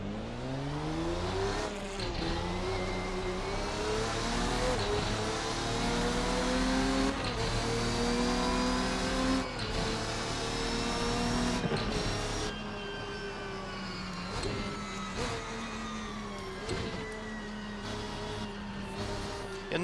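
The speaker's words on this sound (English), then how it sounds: "definitely some nice V12 engine sounds for us" The V12 engine of a Ferruccio 57 race car in a racing video game revs and climbs through gears, its pitch rising and dropping repeatedly with brief shift breaks, loud and continuous with no talk.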